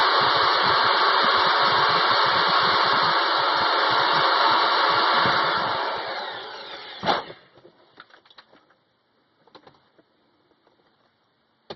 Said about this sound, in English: I'm going to drill that out with a 332 bit.